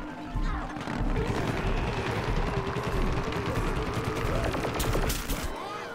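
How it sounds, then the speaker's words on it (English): Dense, continuous gunfire from Plants vs. Zombies: Garden Warfare 2 crackles loudly and steadily in rapid overlapping shots, with scattered impacts, for most of the clip before it cuts off. "What the heck's shooting me?"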